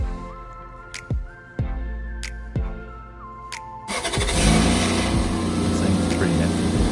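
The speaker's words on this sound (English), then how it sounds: "so I got my Gulu portable jump starter pack and had to start the engine" Toyota MR2 Spyder engine cranking on a portable jump starter pack: several short starter bursts, then the engine catches and settles into a steady, loud idle close by.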